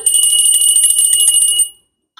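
A bright, high metallic bell rings continuously with a rapid trill for nearly two seconds, loud and close, then stops abruptly.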